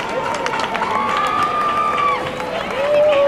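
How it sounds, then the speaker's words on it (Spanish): A crowd at an outdoor burial of the sardine carnival event in Guadalajara claps and cheers for participating schools, a continuous wash of applause mixed with crowd noise and a melodic sound drifting over it. "¡Fuerte aplauso, fuerte!"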